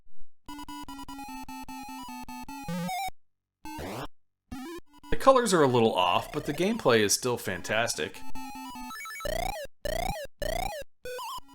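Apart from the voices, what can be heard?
Atari 7800 video game music and effects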